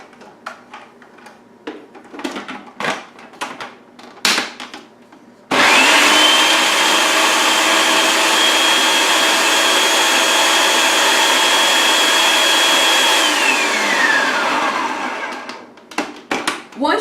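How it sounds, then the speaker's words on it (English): A blender whirs loudly and steadily for about ten seconds, churning garlic cloves, nuts and olive oil into a base for basil pesto, starting abruptly after a few clicks and knocks and winding down at the end. "It's important to mix these ingredients up pretty well before you add in the other"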